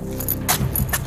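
Car keys jangle in short, bright metallic bursts, close and loud, during a police body-camera incident involving a car.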